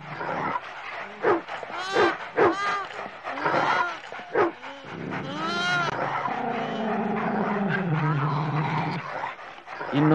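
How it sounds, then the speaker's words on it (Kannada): Dogs in a Kannada movie scene growl and bark, several sharp barks in a row followed by a long, rising snarling growl, loud and close, with no talk. "ಇನ್ನೂ 18 ನಾಯಿಗಳಿದೆ."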